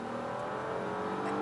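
Audi A8 55 TFSI (2018) engine pulling hard under kickdown acceleration, a steady, fairly muted rising drone heard from inside the cabin with no talk over it.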